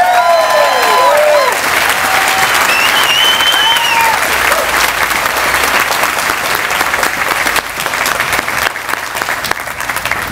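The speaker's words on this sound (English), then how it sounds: "How about a round of applause?" Hearty crowd applause at an outdoor groundbreaking ceremony for a children's hospital, dense sustained clapping lasting ten seconds, with a few whoops and cheers rising above it early on before it settles into an even roar.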